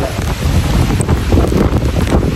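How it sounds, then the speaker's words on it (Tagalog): Strong wind on a mountain top buffets the microphone in a loud, steady low roar that drowns out everything else. "napakalakas ng hangin dito"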